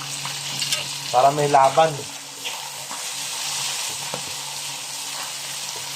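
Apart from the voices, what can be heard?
vinegar added to hot frying pan, sizzling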